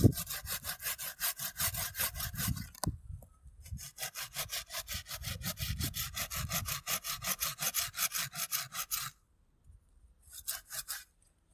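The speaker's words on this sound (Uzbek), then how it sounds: "Metrlarga arra solib qo'yiladi, suvlar chiqib ketib qoladi." A hand saw cuts through grapevine wood in rapid rhythmic strokes, a close, rasping back-and-forth that pauses briefly, resumes steadily, then stops before a few final strokes.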